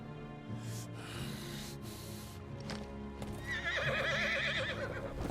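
A six-legged horse mount in the Final Fantasy XVI video game neighs loudly over a bed of game music, its whinny rising in wavering bursts near the end, with hoof clip-clop at the start.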